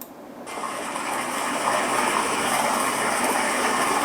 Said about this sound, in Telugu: ఇది నేచర్కి water is rushing down A stream and pouring.